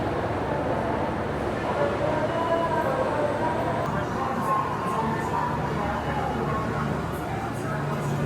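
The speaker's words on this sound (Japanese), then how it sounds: "カーブの先から白い特急列車が現れます" A white Spacia X limited express train rolls toward a station platform, a steady broad rumble and rail roar filling the scene continuously at moderate loudness, with faint crowd murmur mixed in.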